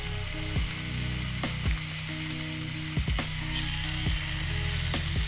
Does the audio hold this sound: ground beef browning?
yes